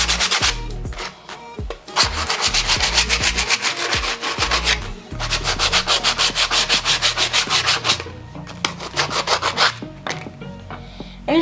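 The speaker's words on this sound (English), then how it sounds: "And you're just gonna sand it just like that" Sandpaper scrubs tar off an old wooden axe handle in fast, rhythmic back-and-forth strokes, loud and close, coming in bursts separated by brief pauses, with no talking.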